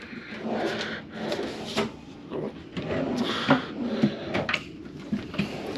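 Drawers in a cruise ship cabin are pulled open and pushed shut several times, giving close wooden slides and knocks in an irregular rhythm.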